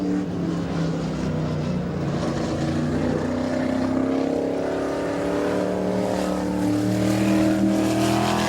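Race car engines roar steadily at Midvale Speedway as car number 15 comes up to full throttle at the green flag, a loud sustained engine drone that rises slightly in pitch with crowd and track ambience behind it.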